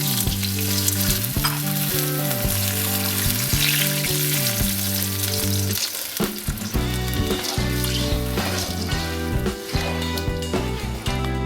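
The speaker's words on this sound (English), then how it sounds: "Then add your stock and soy sauce." Stock and soy sauce hitting a hot pan of Mongolian beef: a loud, dense sizzle and bubbling that runs unbroken throughout, with tonal hum underneath and no talking.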